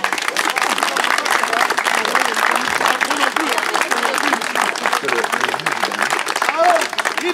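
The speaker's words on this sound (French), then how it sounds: "c'est nous qui allons vous applaudir." Sustained applause from an audience at a short stage play, dense steady clapping filling the whole stretch with crowd noise underneath, loud and continuous.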